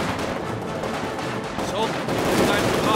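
Heavy machine gun fire in a Company of Heroes 2 winter battle crackles steadily in the background amid a dense wash of battlefield noise, with a voice shouting over the din.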